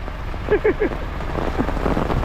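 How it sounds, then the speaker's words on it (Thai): Steady hiss of rain falling, with a few brief voice sounds near the start. "ฝนมาแล้ว"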